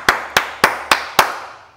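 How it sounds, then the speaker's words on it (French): Five sharp hand claps in a steady, evenly spaced rhythm, close and clear, each ringing briefly before the next, with no talking. "Je tape dans la main, on applaudit"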